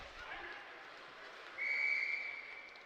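A referee's whistle blows once, sharp and sustained, during a high school hockey game between Bishop Hendricken and Toll Gate in Warwick, over a distant arena crowd murmur.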